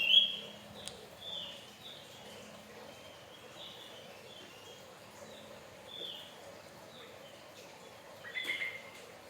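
A pet Javan white-eye kept at home gives faint, short high chirps repeated at loose intervals over a low background hum, with a slightly livelier flurry near the end.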